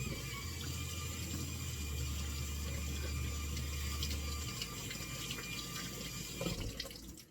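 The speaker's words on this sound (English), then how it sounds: "so let's rinse off this shampoo" Tap water runs steadily into a sink while shampoo is rinsed out of a toy doll's synthetic hair, a continuous close splashing wash with no talking over it.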